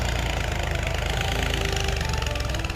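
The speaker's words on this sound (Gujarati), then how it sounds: "ટ્રેક્ટરથી ખેડ વાગી રહી છે." A tractor engine ploughs a farm field, a loud and close steady diesel rumble with a low, even throb that carries on without a break.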